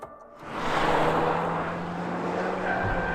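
A VW Golf R Performance Pack driven hard on track roars as the engine swells into a sustained loud drone with tyre noise, heard from outside and holding steady without talk.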